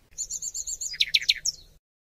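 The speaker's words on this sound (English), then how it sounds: "Bird." A bird chirps in a short, clear burst: a quick string of high, even tweets leads into a brighter trill. The sound is close and alone, and it lasts under two seconds.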